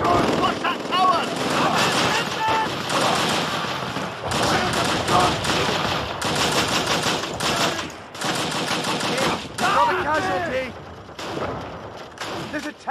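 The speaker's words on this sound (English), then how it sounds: "Send up another squad to clear those MG nests." Rapid bursts of machine gun fire and heavy thuds in a World War II battle from Call of Duty: Roads to Victory, loud and continuous, with soldiers shouting over the din.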